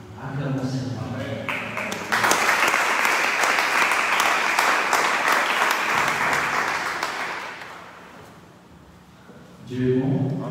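A church congregation bursts into loud, sustained applause for about six seconds, then it fades. Speech is heard before and after.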